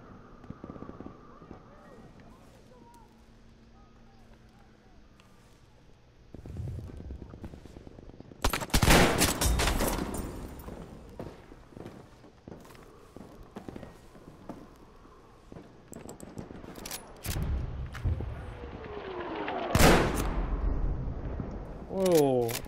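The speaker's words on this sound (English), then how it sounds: "That must be mortars." Heavy mortar fire in a video game lands in a few loud, sharp blasts spread apart, with quieter ambient battle noise and people talking in between.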